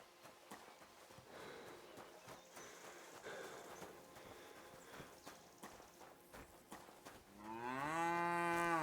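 Footsteps and a hoof-like clip-clop move through a medieval village in Kingdom Come: Deliverance 2, then a cow lets out a loud, drawn-out moo that rises and holds close by at the end, with no talking.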